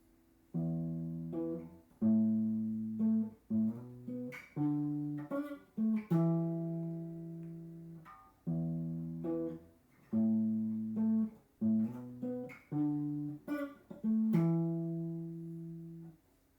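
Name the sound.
electric guitar riff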